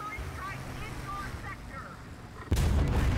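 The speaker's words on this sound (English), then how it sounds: "Oh no, there's Caleb's bomb." A bomb blast in the War Thunder video game erupts suddenly as a loud, broad boom about two-thirds through and keeps rumbling to the end. Before it, engine drone and faint chirpy sounds run underneath.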